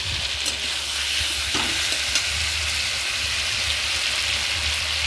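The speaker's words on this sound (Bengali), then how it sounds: "মশলাটা আর সবজিগুলো বেশ সুন্দরভাবে সেদ্ধও হয়ে গেছে আর সুন্দর কষানোও হয়ে গেছে" Spices and vegetables for a vegetarian jhol sauté in a pan with a steady, close sizzle, constant and fairly loud, with no talk.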